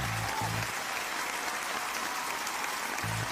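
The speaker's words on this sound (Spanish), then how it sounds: "fuerte el aplauso para tus finalistas a la corona de Miss Universe Puerto Rico 2021" Audience applause for the Miss Universe Puerto Rico 2021 finalists at a live pageant, a steady wash of clapping throughout with brief low tones from background music at the start and end.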